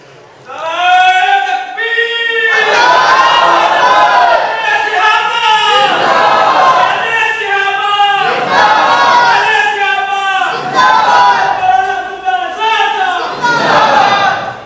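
A crowd at a religious speech chants slogans in loud unison, voices rising in repeated bursts every couple of seconds, close and full, one phrase echoing after another.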